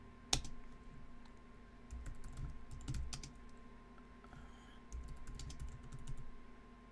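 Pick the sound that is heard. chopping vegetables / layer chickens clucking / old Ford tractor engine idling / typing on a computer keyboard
typing on a computer keyboard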